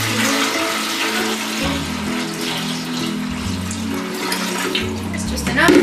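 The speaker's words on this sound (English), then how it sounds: "I'm going to dump in some water because you can't run the pumps dry." Water poured from a container into a homemade dog water fountain holding a small pump, a steady splashing gush at close range that swells louder at the end.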